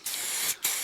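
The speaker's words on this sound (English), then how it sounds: "So I'm going to use a little bit of silicone" Silicone spray hisses from a can while working on a split rear headrest of a Vauxhall/Holden Monaro: a close, loud burst of about half a second, a brief pause, then a second shorter burst.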